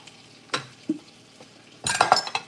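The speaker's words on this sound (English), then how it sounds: "I'm gonna fry sweet peas" Sweet peas are fried in a pan for a Cambodian pork chop meal, giving a few soft clinks of a utensil being stirred and then a burst of loud sizzling and scraping near the end.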